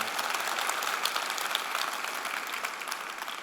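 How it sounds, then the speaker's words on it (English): Church audience applause, an even, moderately loud patter of many people clapping together that continues steadily and eases off slightly at the close. "Worth a clap."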